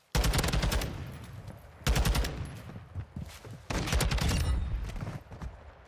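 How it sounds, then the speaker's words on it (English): Video game gunfire from a TAQ-56 match: three loud, close bursts of rapid automatic shots separated by brief pauses, with a few scattered single shots between them and no talking. "He started shooting me before I even saw him"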